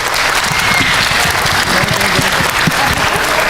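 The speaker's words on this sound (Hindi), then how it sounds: "बहुत सारी तालियां होनी चाहिए पहले इन लोगों के लिए।" A studio audience on a quiz game show claps loudly and steadily throughout, a dense continuous round of applause with no gaps.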